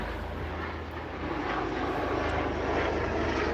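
A helicopter flies overhead, a faint, steady distant engine drone that swells slightly toward the end, heard alone in an outdoor setting.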